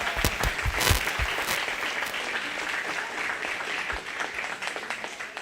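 An audience claps for children at a 4-H/FFA sheep and little lambs show, a loud burst of many hands that settles into steady applause, with a few sharp claps standing out nearby.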